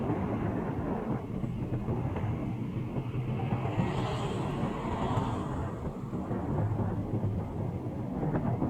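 Light drizzle falls on a long city street in Gorontalo, heard as a steady broadband hiss with low traffic rumble underneath, continuous and fairly loud throughout.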